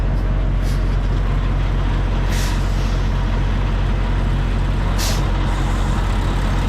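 A truck stuck on a wrong-way street runs at a steady, loud, close rumble as it is put into gear and creeps forward, with a couple of short hissing air-brake releases.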